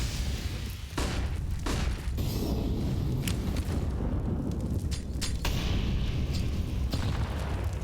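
Grenade blast in Counter-Strike during a pro match on the Inferno map, heard as a dense, continuous low rumble with several sharp broadband bursts and no voices.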